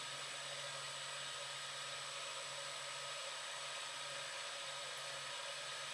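A Hillco Ultramax honey extractor spinning up to a faster speed gives a steady, continuous motor whir with a constant hum underneath, moderately loud and unbroken throughout.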